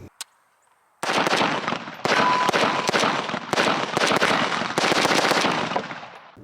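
An AK-12 rifle fires in rapid, loud, sharp bursts after a second of near silence, the shots crowding together into a rattling string that continues to the end.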